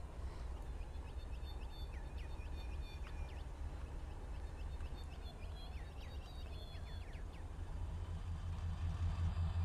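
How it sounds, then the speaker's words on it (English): Deep, steady idling rumble of a GE Evolution Series (GEVO) diesel locomotive in Trainz Railroad Simulator 2019, low and constant throughout and swelling slightly near the end, with bird chirps over the top. "I hear GEVO sounds."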